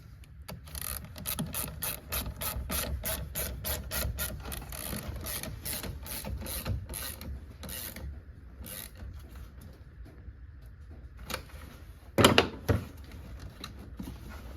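A wrench ratcheting to tighten the negative battery cable clamp on a 2019 Kia Forte, a fast run of close clicking strokes that slows and stops, followed by a few faint metallic knocks.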